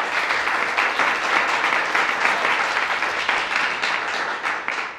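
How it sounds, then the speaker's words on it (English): Steady, dense applause from a crowd, loud and continuous throughout with no talking over it. "Let's have another round of applause"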